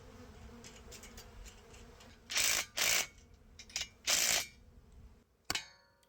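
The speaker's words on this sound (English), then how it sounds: "I'm going to use my impact wrench to tighten up the nuts" An impact wrench tightens nuts on 2-inch unistrut rails in four short, loud, rattling bursts with gaps between them, over a faint steady background hum.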